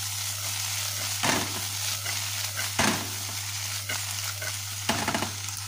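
String beans (sitaw) sautéing with onion in a pan give a steady close sizzle with a low constant hum underneath, broken by three louder scraping stirs spaced about a second and a half apart.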